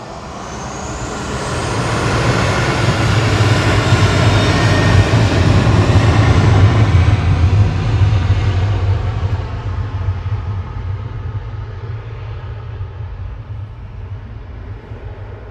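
A Ryanair Boeing 737-800 departs Manchester Airport for Palma de Mallorca, its loud jet roar swelling over the first seconds, peaking midway, then slowly receding into a lingering rumble, with no talking.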